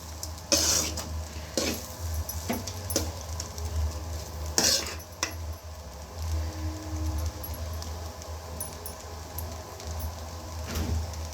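Rice, chapati and cabbage are mixed together by hand in a dish, giving soft squelching and scraping with occasional sharper clinks against the plate, close by, under a steady low background hum.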